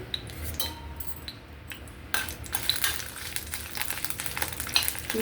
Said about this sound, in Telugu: నూనె కాగిన తర్వాత ఎండుమిర్చి